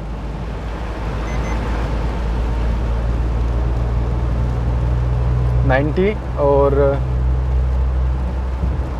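A Maruti Suzuki Alto K10 car accelerating past 80 km/h, a steady engine drone and road rumble underneath, while someone speaks over it and a warning chime sounds.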